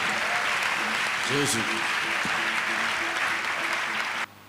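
A church congregation applauds during a deliverance service, a steady wash of clapping running under a voice before cutting off abruptly.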